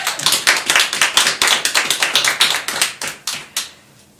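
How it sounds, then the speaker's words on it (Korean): A church congregation claps in thanks, a loud, close run of about twenty evenly spaced claps in brisk unison rhythm that thins out and stops after a few seconds, with no voices. "우리 한번 감사의 박수 합시다."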